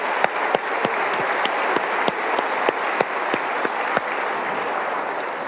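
Audience applause for sponsors at the 2024 West Virginia State of the State address, a steady dense wash of clapping with sharper individual claps poking through, sustained throughout at moderate loudness.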